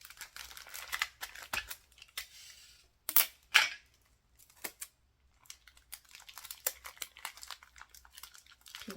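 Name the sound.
crinkling plastic wrap being taped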